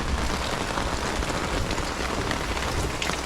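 Rain drips steadily off a workshop awning, a dense, even patter of drops hitting a surface close by, with no voices.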